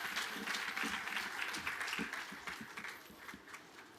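A crowd at a housing handover ceremony in Roseneath, St Catherine breaks into sustained applause and cheering with keys shaken, dense and steady before slowly easing off.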